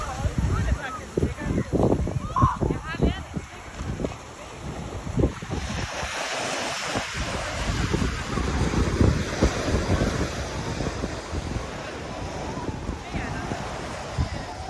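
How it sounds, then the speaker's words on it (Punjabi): Strong ocean waves breaking and washing up on a beach in Portugal, a continuous loud roar of surf with wind buffeting the microphone, close and steady throughout. "ਜ਼ੋਰ ਜ਼ੋਰ ਦੀ ਛੱਲਾਂ ਆਉਂਦੀਆਂ ਪਾਣੀ ਦੀਆਂ"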